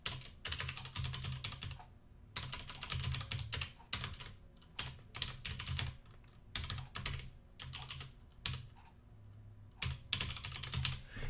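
Rapid typing on a computer keyboard, bursts of close, crisp key clicks separated by short pauses, with no voice present.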